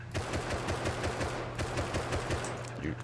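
Rapid automatic SAR rifle fire in the video game Rust crackles in a fast, even string of shots for about three seconds, with a steady low hum running underneath.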